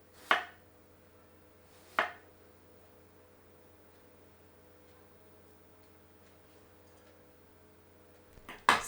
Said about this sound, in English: cut cucumber into 4 to 5 centimeter lengths